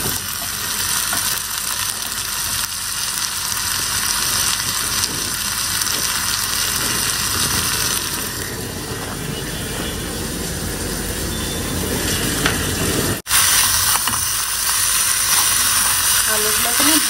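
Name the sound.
boiled potatoes frying with spices, ginger and garlic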